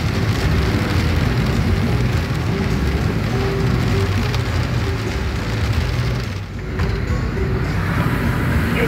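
Heavy rain during a Vermont flash flood pours down in a dense, continuous hiss, close and loud, with a brief dip in the roar partway through.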